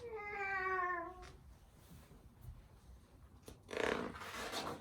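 A cat meows in a clear, drawn-out call near the start, followed by quieter background noise and a brief burst of sound near the end.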